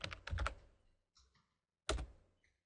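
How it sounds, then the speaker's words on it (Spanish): Keys tapped on a computer keyboard while entering a password on an Ubuntu Linux system: a quick close burst of clicks, a pause with a couple of faint taps, then another short burst. "Le voy a poner de contraseña a Paco, igual, Paco."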